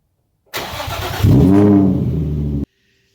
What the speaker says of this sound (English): I haven't done a cold start, so I haven't done it in a while.